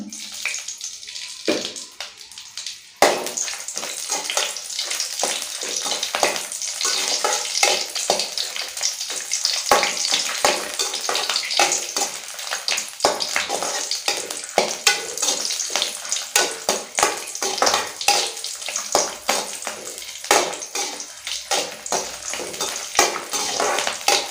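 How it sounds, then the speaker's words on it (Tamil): Dried red chillies and green chillies crackle and sizzle in hot oil in a kadai while cooking a mint thuvaiyal, a loud, dense, continuous frying hiss with constant spitting pops after a brief quieter start. "ஆயில் நல்லா சூடான பிறகு எடுத்து வச்சுருக்க வரமிளகாயும் பச்சை மிளகாயும் சேர்த்துக்கோங்க."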